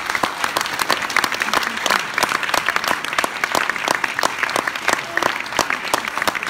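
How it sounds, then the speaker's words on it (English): Warm audience applause for a comedy discussion panel, loud and close with individual claps clearly audible in a brisk, continuous patter from a moderate crowd. "Could you please give a nice warm round of applause for our panel?"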